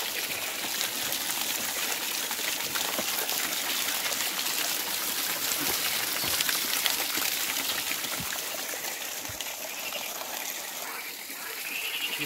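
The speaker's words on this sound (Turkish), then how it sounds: "Çok soğuk bir su akıyor." Icy-cold water pours steadily from a spring-fed fountain, a close, continuous rushing splash with no pauses and no voices.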